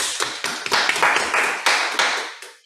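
A small group at a French-speaking Toastmasters club meeting claps at the opening, a scattering of distinct hand claps that bunch and fade, close and fairly loud in a quiet room.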